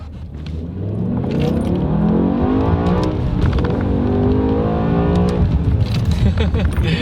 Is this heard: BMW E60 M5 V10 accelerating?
yes